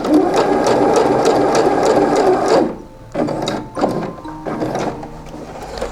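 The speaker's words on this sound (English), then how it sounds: "Now I sew across." Sewing machine stitching across a shirt placket, a loud close steady rapid whirring run that stops, followed by a few shorter bursts of stitching and mechanical clicks.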